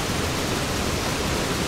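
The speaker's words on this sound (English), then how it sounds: "Look at that waterfall." Broad, steady roar of a waterfall on a mountaineering route from base camp toward camp 1, with rocks falling nearby; dense, even rushing noise fills the whole short stretch with no voices.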